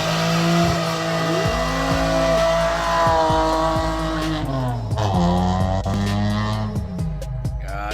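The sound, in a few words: car doing a burnout, engine revving and tires squealing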